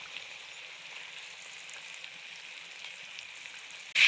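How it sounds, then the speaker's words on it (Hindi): Beef with softened tomatoes fries in a pan, a soft, even sizzle hissing quietly and steadily throughout, close by, with a sudden louder burst right at the end. "अच्छी तरह से फ्राई करेंगे गोश्त को।"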